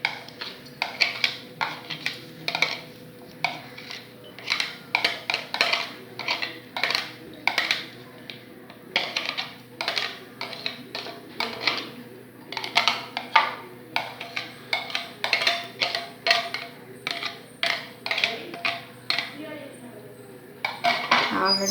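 Ingredients for an egg omelette are put into a bowl, with repeated clinks and taps of utensils against dishes at a fairly steady pace, close and moderately loud over a low background hum.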